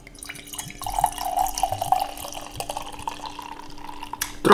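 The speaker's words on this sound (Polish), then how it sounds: "Trochę nalałem z większym impetem, ponieważ mamy więcej piwa." Beer poured from a wide-capped bottle into a glass, a steady splashing, gurgling stream that builds and runs for several seconds before ending with a brighter clink near the end, close by and alone.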